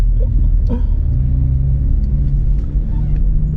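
A loud, steady car engine drones close by at a race track, Bedford Autodrome, with a deep, constant rumble, idling without pause or voices.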